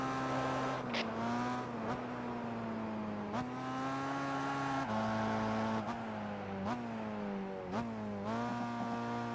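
A supercar in Gran Turismo 5 lapping a track, its engine note droning loud and steady, then dropping sharply in pitch again and again as the car brakes hard and downshifts into corners.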